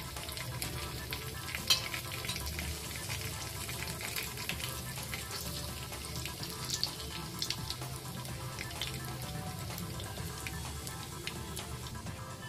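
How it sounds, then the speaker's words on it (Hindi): Cumin seeds, a teaspoonful, fry in hot oil for a yogurt curry: a steady, dense sizzle with faint crackles that holds at an even level from start to finish, with no talking. "ऑयल गर्म हो गया है, हम इसमें 1 टीस्पून जीरा डालेंगे और इसको भुनने देंगे।"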